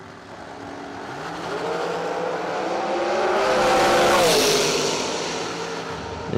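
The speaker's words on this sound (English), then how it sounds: "This is an almost even drag race as well." Drag racing cars launch and roar down the strip at a RAD Torque Systems event, engines swelling loudly toward a peak near the middle before easing off, with a continuous wash of crowd and track noise underneath.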